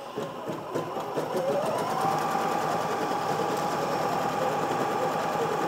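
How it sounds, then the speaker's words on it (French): A quilting sewing machine stitches across fabric with Kimberbell Clear Blue Tiles, a steady fast mechanical whir and needle chatter that settles into a continuous even drone, close and loud, with no speech. "la machine va faire son piquage que j'ai choisi"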